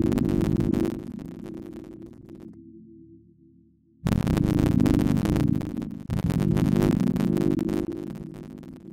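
Waves Element synth plugin playing its Mellow Keys preset in FL Studio, dense sustained chords that cut to a faint low drone, then return full and loud for the rest, with no talk.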